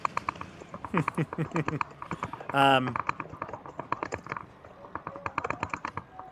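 Someone typing on a computer keyboard, rapid light clicks in irregular bursts under overlapping conversation, with one brief louder burst partway through.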